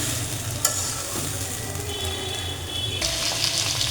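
Greens sizzle and crackle as they are stir-fried with spring onion stalks in a pan, a steady close-up frying hiss broken by scraping stirs and a few sharp clanks of the utensil.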